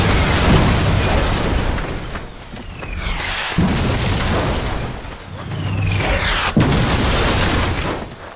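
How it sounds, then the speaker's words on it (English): Mortar fire explosions in the video game Sniper Elite 3, several heavy booms landing a few seconds apart, each preceded by a falling whistle and followed by rumbling debris, loud and close. "Mortar fire!"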